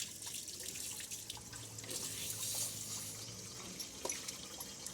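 Quiet splashing of tap water, with drips and sloshing as something is rinsed, faint and uneven.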